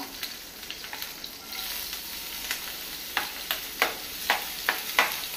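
Chopped onion and green chilies fry in hot oil with a steady soft sizzle, punctuated by a run of sharp, regular spatula taps and scrapes against the pan that grow more frequent toward the end.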